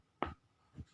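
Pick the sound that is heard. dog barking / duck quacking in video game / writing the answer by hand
writing the answer by hand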